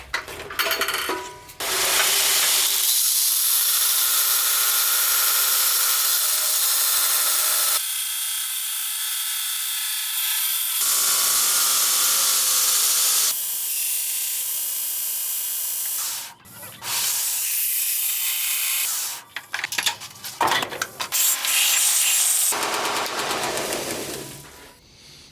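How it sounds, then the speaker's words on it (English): A belt grinder grinds metal in long, loud, harsh hissing passes, several stretches of continuous abrasive roar broken by brief pauses and shorter bursts toward the end. "we're gonna make the belt grinder earn its keep on this one"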